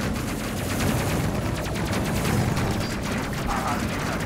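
Rapid, continuous weapon fire fills a battle in the spaceship game Space Crew, a dense rattling barrage that runs without pause over a loud, noisy background.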